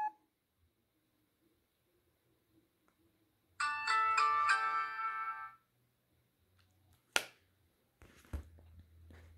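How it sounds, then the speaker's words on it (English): A mobile phone plays its startup tone, a short bright chiming melody of about two seconds, heard alone in a quiet room, followed by a couple of faint clicks. "The startup sound on this phone specifically sounds very compressed."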